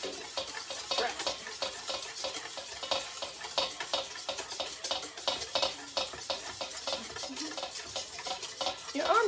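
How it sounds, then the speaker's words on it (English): A raw-egg dressing is whisked by hand in a bowl, a quick, even run of light clicking strokes kept up close and steady throughout. "don't stop whisking"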